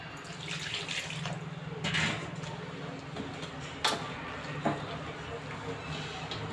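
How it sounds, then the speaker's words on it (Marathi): Water trickles and splashes close by for a few seconds into flour for coriander fritter dough, with small clicks and knocks mixed in. "थोडं पाणी ऍड करून घेऊया।"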